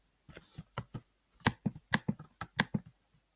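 Rapid clattering keystrokes on a computer keyboard, a quick irregular run of about a dozen sharp clicks, close and alone without talk.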